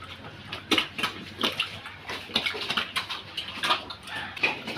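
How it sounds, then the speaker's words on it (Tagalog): A pig on a Philippine fattening farm grunts and snuffles in short, irregular bursts at close range, with scuffling and wet patter mixed in and no voices. "Yan ang baboy niya dito."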